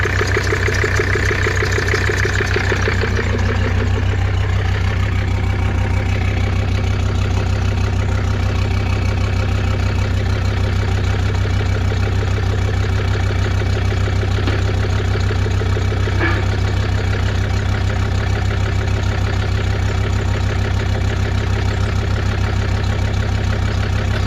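A truck's diesel engine idles steadily on a mix of regular diesel and black diesel, with a deep, even rumble that runs unbroken and fairly loud throughout, alone with no voices.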